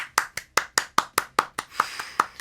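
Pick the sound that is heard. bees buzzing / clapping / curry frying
clapping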